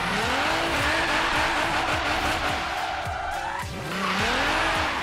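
In Forza Horizon 3, car tires screech and squeal as the car drifts, with the back spun out under heavy power. A revving engine pitches up and down beneath the repeated skids.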